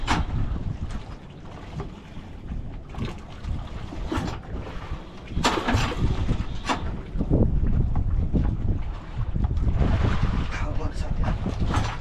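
A boat engine drones beneath strong wind buffeting the microphone, with water splashing and occasional voices nearby.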